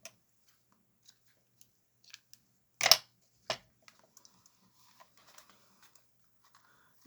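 Scissors snipping off a tied piece of craft embellishment material, two distinct close cuts in the middle of the stretch, surrounded by quiet and a few small ticks and handling sounds.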